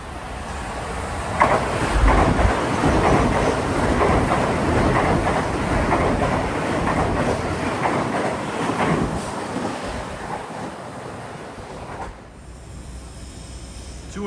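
A Metro-North New Haven Line train rushes past at close range, a loud steady roar of wheels and rail noise with wind buffeting the microphone, easing off near the end.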